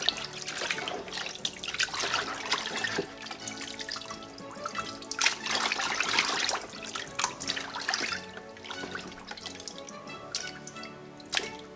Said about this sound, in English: Soak it for a little bit and we'll rinse it a couple more times